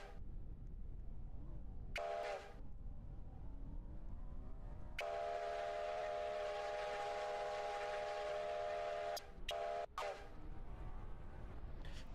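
Steam train whistle in a Roblox game, a short toot followed by a long sustained harmonic blast, then two more quick toots over a low rolling engine rumble.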